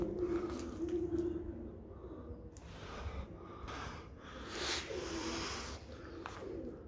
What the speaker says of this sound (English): I think the pigeons are up there somewhere. Yeah, you can hear them.